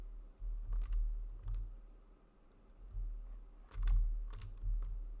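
Computer keyboard keys pressed in a few quick clusters of close, crisp clicks with soft thumps, no talking over them.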